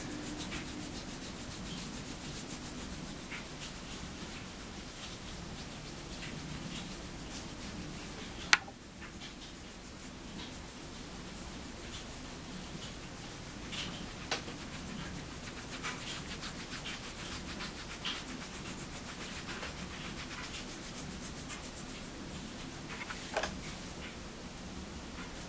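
Hands rubbing cream into a face during a facial massage, a soft, close, continuous rubbing and brushing texture with faint ticks and one sharp tap, no talking.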